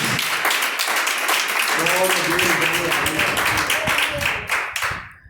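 A church congregation claps during a Pentecostal service, a dense, rhythmic patter of many hands nearby, with voices rising over the clapping before it tapers off at the end.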